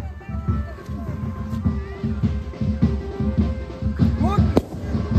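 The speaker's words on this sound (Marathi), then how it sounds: "आता सुतली बॉम्ब पेटवत आणि वरती फेकल बघा" A sutli bomb firecracker lit and tossed upward bursts amid a festive outdoor crowd, with sharp explosive cracks over a dense wash of chatter, drumming and music.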